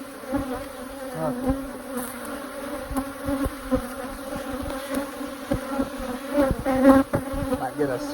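Bees from a hive being worked by a beekeeper swarm close around, a dense, wavering buzz that rises and falls as individual insects pass near; a person briefly says one word.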